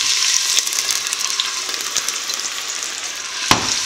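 Onions frying in hot vegetable oil for a stew, a loud, dense sizzle with scattered crackles and pops close by, and one sharper knock near the end.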